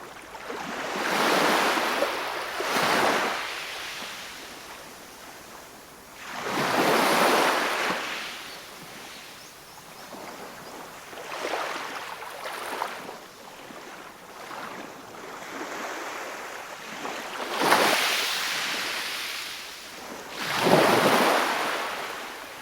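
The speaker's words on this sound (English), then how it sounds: "I can hear the sound of waves." Sea of Crete waves off Crete, Greece, roll in and crash repeatedly, each surge swelling and fading in a slow rhythm, with wind buffeting the microphone.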